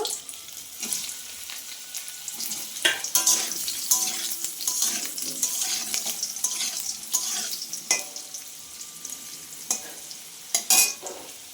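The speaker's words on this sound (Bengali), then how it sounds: "এবার এই ভাত দেওয়া আলুগুলো আমি একটু ভেজে নেব" Potatoes frying in hot oil sizzle steadily, with brief scrapes and knocks from stirring that stand out now and then, the hiss holding close and loud for the whole stretch.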